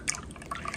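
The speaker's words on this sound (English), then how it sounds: "I am ready to pour on my glass with lots of ice." Cucumber lemonade pours into a glass of ice, close by, with a short burst of liquid and light clinks and drips lasting under a second.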